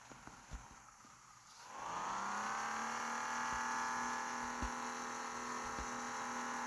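Jeep Gladiator engine revving up from near quiet into a sustained rising whine and drone as it drives off-road, with a few faint clunks and knocks over the steady engine tone, no talking.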